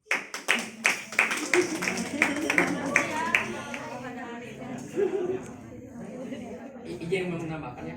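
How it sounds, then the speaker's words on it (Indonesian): Short burst of clapping from a small audience after a student business presentation, a few sharp claps fading quickly into chatter and talk. "Tepuk tangan."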